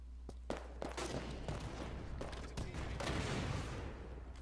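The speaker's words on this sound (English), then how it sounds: "I was just rifling off shots." Rapid rifle fire crackles in a Halo 5 online multiplayer match, dense overlapping bursts of shots with explosive booms layered over a steady game-audio hum, loud and continuous throughout.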